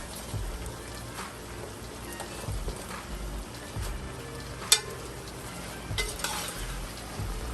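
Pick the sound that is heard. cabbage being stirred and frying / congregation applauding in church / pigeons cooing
cabbage being stirred and frying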